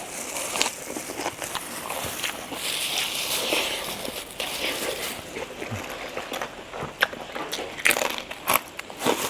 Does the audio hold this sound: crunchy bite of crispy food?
yes